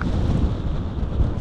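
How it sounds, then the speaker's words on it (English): Strong wind gusting across a mountain path, a dense low rumbling buffet that stays steady and close for a moment, with no voices. "Oh, that wind!"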